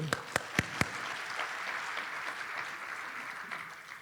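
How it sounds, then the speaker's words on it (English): A few sharp, distinct claps ring out before a crowd at a defense forum keynote breaks into sustained applause that fills the room at a steady level. "I want to give you a round of applause because I appreciate you."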